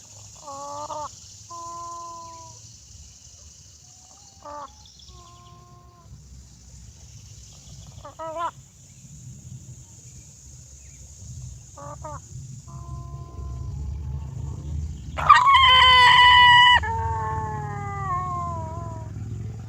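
A free-range country chicken infected with worms gives a strained gurgling call, with short separate bursts early on and then a louder, longer cry near the end, heard close up without anyone talking.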